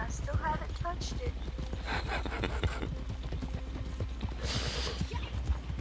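Horse hooves clip-clop steadily in a PS4 video game, a regular rhythmic beat under game sounds and people talking, with a brief whinny-like tone early on.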